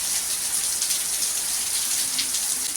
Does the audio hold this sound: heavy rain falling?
yes